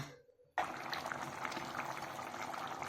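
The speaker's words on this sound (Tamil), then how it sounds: "கொஞ்ச நேரம் கொதிக்க விட்டுருங்க." After a brief quiet start, a steady bubbling simmer rises and continues evenly, a pot of dry fish curry with coconut milk boiling close by with no voices.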